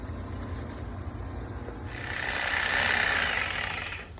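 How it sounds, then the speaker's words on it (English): A reciprocating saw (Sawzall) cuts through tree roots in a garage-side dig, a harsh buzzing rasp rising from about two seconds in, loud and close, over a steady low rumble. "That was him on the sawzall."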